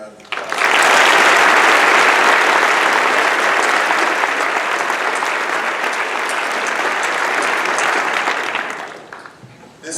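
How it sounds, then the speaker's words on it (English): A lecture audience breaks into loud, sustained applause that swells quickly, holds for several seconds, then tapers off near the end. "Please give the Eisenstadt family a warm round of applause."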